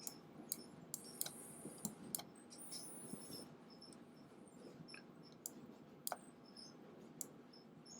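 Sharp, close clicks of a computer mouse repeat at an uneven pace while dragging in Photoshop, quiet between clicks, with no talk.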